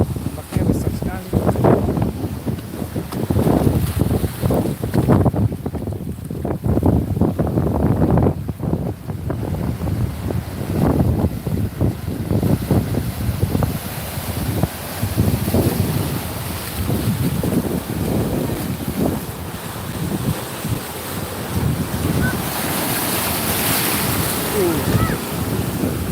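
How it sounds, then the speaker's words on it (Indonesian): Large sea waves roll and crash at the shore, with steady broadband surf and wind buffeting the microphone throughout; people talk intermittently over the water noise. "bagus, ombaknya besar. Besar sekali ombaknya."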